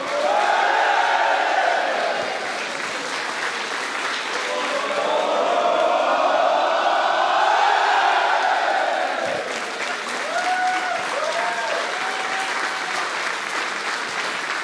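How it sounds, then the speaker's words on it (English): A large esports arena crowd in Berlin cheers wildly with sustained applause and roaring as players lift the trophy at a Heroes of the Storm grand final, loud and continuous, with a few rising whoops late on. "Crowd is going absolutely wild as everybody's lifting the trophy."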